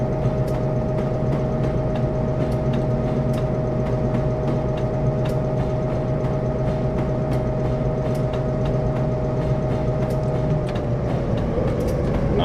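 An EMD F7 diesel locomotive in Train Simulator on the B&O Mountain Subdivision, picking up speed at notch 4. Its steady engine drone runs throughout with rail rumble and faint periodic clicks, loud and continuous.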